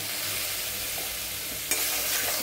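Spice masala of turmeric, salt and a little sugar frying in a pan, a steady close sizzle with a soft stirring scrape and one sharper clatter partway through.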